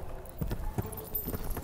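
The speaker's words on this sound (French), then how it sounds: "tu as un cheval qui galope mieux" Hooves of a mare clip-clop in a steady galloping rhythm during a riding lesson, dull thuds repeating close by with faint background noise and no clear talk.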